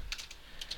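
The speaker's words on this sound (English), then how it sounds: "we're just going to type in" Quick keystrokes on a computer keyboard while code is entered, a handful of close, crisp clicks in two short clusters.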